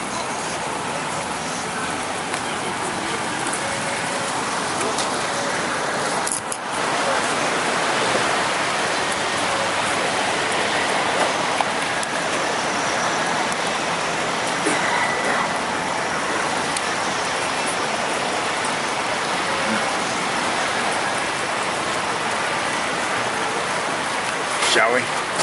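Rain falls steadily and evenly beside a Seattle food truck, a constant broadband hiss that runs the whole time with a brief dip partway through, while people talk faintly under it.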